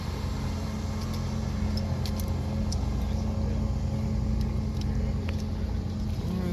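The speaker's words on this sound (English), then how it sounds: "So Kurt, he's driving it into place." Tractor engine running steadily at close range as it drives into position to lift a spreader implement, a continuous low rumble with no talk over it.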